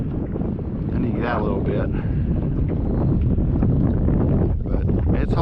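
Gusty wind buffets the microphone on a fishing boat holding position in 10 to 20 mph gusts, a steady loud rumble throughout with someone speaking over it.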